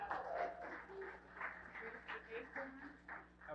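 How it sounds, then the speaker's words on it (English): A faint, steady patter of applause for a guest arriving at an Easton Lions Club history celebration, with someone talking over the clapping throughout. "So, round of applause for Joan."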